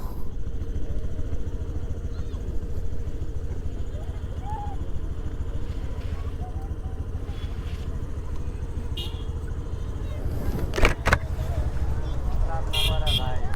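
Roadside traffic jam where a tractor has pulled over, with motorcycles and cars idling and rumbling nearby, short horn toots near the end, and people talking throughout.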